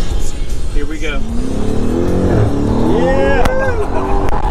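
A bone-stock car launches and accelerates hard at SEMA 2019, its engine note rising in pitch over a steady roar, with people talking and cheering throughout.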